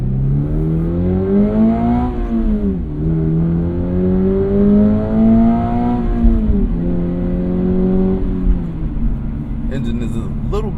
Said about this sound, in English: Engine is a little bit on the buzzy side, but the car does rev out very high.